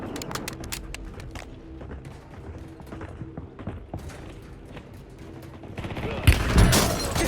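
Gunfire in Call of Duty Warzone, a steady patter of rapid shots and clicking weapon mechanics through the clip, building to a louder burst near the end.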